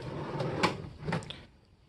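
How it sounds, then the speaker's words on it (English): A wooden drawer sliding on side-mounted drawer slides, a quiet rolling, rumbling glide with a couple of soft knocks as it moves, fading away at the end. "So here's the finished drawer."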